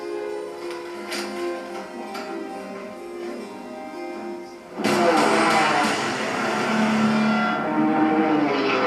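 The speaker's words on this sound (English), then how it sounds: "Gentlemen, start your engines" Race plane engines idle with a steady drone at the Red Bull Air Race in London, then several roar to life together halfway through, revving loudly and holding a dense, aggressive growl.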